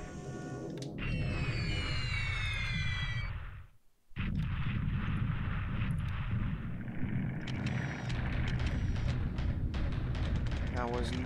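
A torpedoed ship blowing up in War in the Pacific, with a loud rumbling blast and crackling debris, then a brief dropout and a second sustained roar of explosions and fire; a voice talks over part of it.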